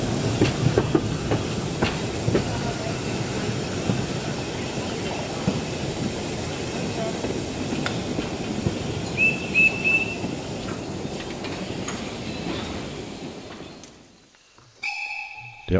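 A steam train shunting rumbles and clanks steadily for a long stretch, with faint whistle tones, then fades away before a short high whistle sounds near the end.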